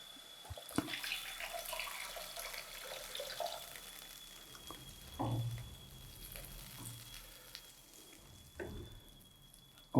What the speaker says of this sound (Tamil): அந்த புளி தண்ணியை சேர்த்துருங்க.